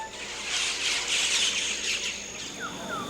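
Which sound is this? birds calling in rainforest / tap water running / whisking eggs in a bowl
birds calling in rainforest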